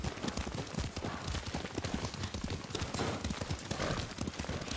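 Steady clip-clop of horse hooves at a trotting rhythm, continuous and fairly close, with a dense noisy backdrop, in the video game Ghost of Tsushima.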